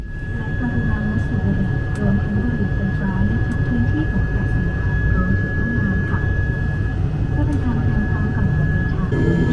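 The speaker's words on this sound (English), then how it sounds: "what kind of plane we got? One with propellers." Steady, loud propeller engine drone fills the cabin of a very small propeller plane with a constant hum and a high whine; a few faint voices are heard beneath.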